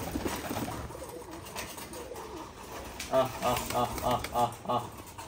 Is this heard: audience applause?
no